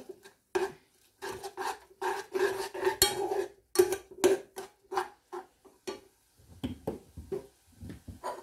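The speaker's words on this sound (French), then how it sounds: "Je mélange" Thai broth concentrate being stirred into food in a bowl or pan, heard as a run of close scraping and clinking utensil strokes in uneven bursts with short pauses.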